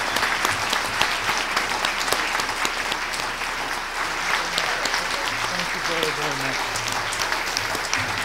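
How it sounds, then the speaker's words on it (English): A round of audience applause for Professor Joseph Stiglitz at a Stop TPP event, dense continuous clapping that stays loud and even for over eight seconds, with a few low voices murmuring underneath toward the end. "ask for another round of applause for Professor Stiglitz for coming"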